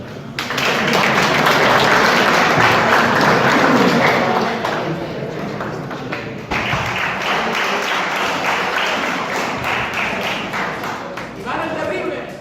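Crowd applause at a Catalan tournament prize ceremony as the federation president is introduced, a dense, steady clapping that swells loudly, dips briefly and carries on, with a voice speaking over it.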